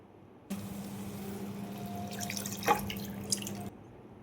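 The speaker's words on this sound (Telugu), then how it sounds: "మనం ముందుగా ప్రిపేర్ చేసి పెట్టుకున్న చింతపండు గుజ్జుని అయితే వేసేసుకుందాం" Tamarind pulp poured into a pan of Telugu fish curry, a short wet splash and drip of liquid over a steady low hum, close and moderately loud, ending with a couple of sharper drips.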